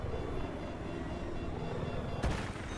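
A helicopter in a first-person shooter video game, a steady dense engine and rotor roar filling the scene, close and loud, with a sudden sharp burst near the end.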